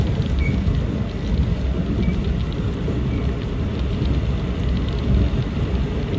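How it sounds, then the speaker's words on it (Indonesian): Heavy rain drums steadily around the Taksaka passenger train as it passes Gombong station, a dense unbroken wash with a low rumble underneath and no talking. "Hujan lumayan deras."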